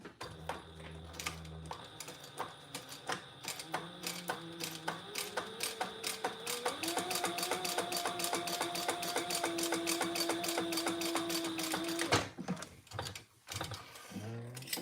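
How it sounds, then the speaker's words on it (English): A sewing machine runs a line of top stitching on a trifold wallet, a close rhythmic mechanical whir with steady needle ticks that builds and stops abruptly near the end, followed by a few handling knocks. "now we're just going to put one more top stitch"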